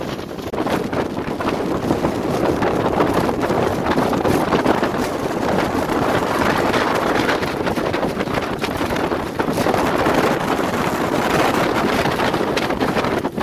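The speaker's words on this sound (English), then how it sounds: "that wind crazy kicked up and got super rough" Strong wind batters the microphone on a fishing boat drifting on Watts Bar lake in rough conditions, a constant loud roaring rumble with no pauses and no voices.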